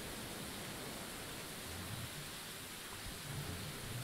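Steady heavy rain with low rolling thunder in the Medieval Dynasty video game, a constant dense hiss with deeper rumbles, no talk.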